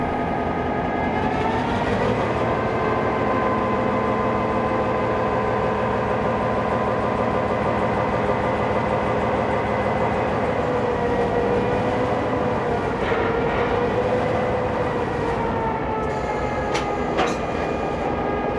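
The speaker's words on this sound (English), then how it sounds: "After its shunting, it will move its train further into Platform 1" Locomotive shunting its train at a platform in New South Wales, a loud continuous diesel drone with steady tonal hum and clanking rail noise, no talk.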